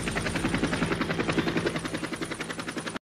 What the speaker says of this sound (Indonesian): muncullah tentara Rusia yang merupakan sekutu Vietnam yang mendarat di sana